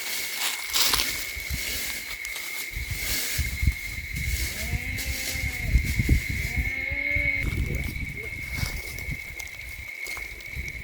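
A cow lowing in the Honduran countryside near Jacaleapa, with two drawn-out moos at moderate distance over a steady background hum of outdoor ambience and a high insect-like tone.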